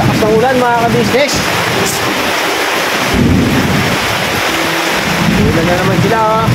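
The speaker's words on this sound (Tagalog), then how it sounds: "Lakas ng ulan mga kabisnes." A loud, steady downpour roars continuously, with brief bursts of a voice speaking over the rain.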